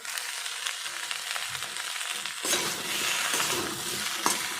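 Okra frying in a pan, a steady close sizzle with stirring scrapes, growing louder and hissier midway as the pieces are turned, with no one talking.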